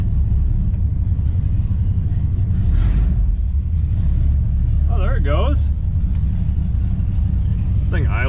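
Engine of a 1959 or 1960 Pontiac Bonneville convertible barn find idling, a steady low rumble throughout with people talking over it.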